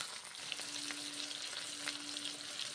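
Red lentils and ridge gourd fry in oil with turmeric and salt, a soft steady sizzle with light scraping stirs and a faint hum, quiet and close, no voices.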